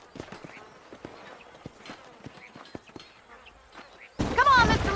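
Horse hooves clip-clopping in Red Dead Redemption, a steady walking rhythm of distinct close hoof strikes, followed near the end by a burst of loud talk and noise.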